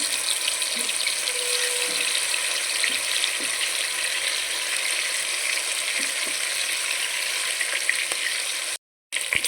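Fish pieces for biryani frying in a pan, giving a steady, close crackling sizzle with faint scattered pops throughout, briefly cutting out near the end.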